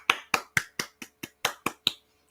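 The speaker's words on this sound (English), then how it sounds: "That's a clap." A rapid run of nine sharp, separate clap-like snaps in about two seconds, close and crisp with even spacing and quick decay, no voices.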